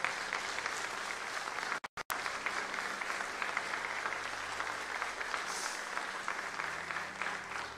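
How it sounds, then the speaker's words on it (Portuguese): A church congregation claps continuously with dense, even applause that fills the whole stretch, steady and moderately loud, broken only by a tiny dropout near the start. "Aplauda ao Senhor e glorifique o Senhor."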